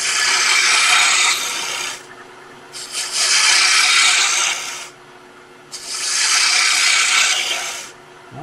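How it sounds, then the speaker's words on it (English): A gouge shapes and rounds a wooden handle spinning on a lathe, making loud, hissing scraping passes in three long bursts separated by brief pauses with only the lathe's hum. "Now all we got to do is shape the handle, round it off a little bit."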